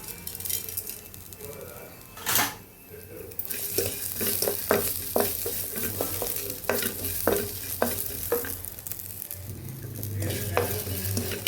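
Onions, cumin, ginger and coriander fry in a pan for tomato chutney, with a steady sizzle under repeated scraping and clinking stirring strokes, close and moderately loud.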